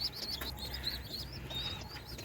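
Pigeon chicks in a loft of local desi pigeons chirp in quick, high, repeated peeps, with soft wing flutters and low background noise.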